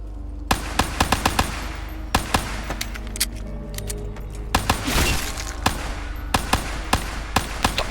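Rapid bursts of MR6 pistol gunfire in Black Ops 3 Zombies, upgraded with heavy kickback, crack out as sharp repeated shots in uneven clusters over steady game ambience, loud and close with no talking.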